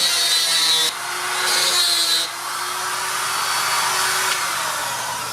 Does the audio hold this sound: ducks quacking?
no